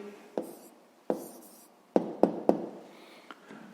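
Pen or pencil writing an answer to a sixth-grade math exercise, with a few sharp taps and scratchy strokes spaced across a quiet background, close and moderately loud.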